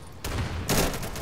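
Gunfire in the video game Insurgency, two loud, close bursts of shots with a rough, wide-band crack, the second stronger and followed by a lingering tail, with no talking.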